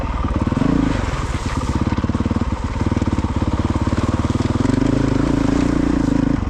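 A Honda CRF450RL dirt bike engine with a Yoshimura exhaust idles and revs with a rough, rapid putter, loud and close, holding steady throughout with brief throttle swells.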